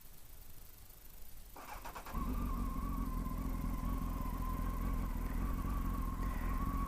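A Honda Hornet 900 motorcycle starts after a brief crank, then settles into a steady, even idle that stays close and continuous, with no talk.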